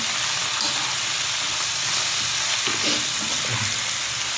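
Garlic frying in a pan for mint and tomato chutney, a steady close sizzle and hiss with faint stirring, no talking.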